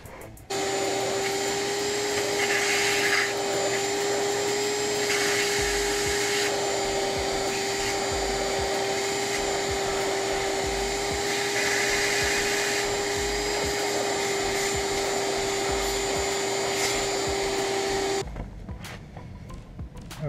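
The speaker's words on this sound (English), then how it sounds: "So I'm going to vac these shavings out" A vacuum sucks up metal shavings left from drilling and tapping, a loud, steady whining drone close by that runs for about eighteen seconds before switching off.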